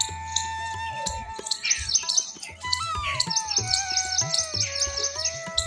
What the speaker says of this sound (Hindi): कबूतर दाना खा रहे हैं कबूतर